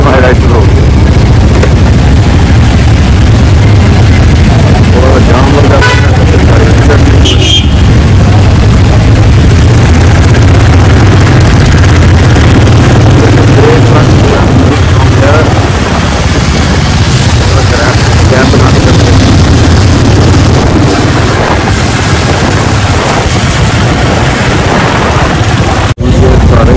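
Motorcycles on an Independence Day group ride in Jammu fill the scene with a loud, continuous engine and wind roar, steady throughout with occasional louder bursts, and no clear voices over the noise.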